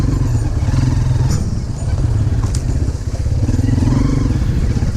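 Motorcycle engine chugging at low revs while riding over a rocky mountain trail with no dirt, loud and close, steady throbbing with clattering bumps as the bike crawls across the stones.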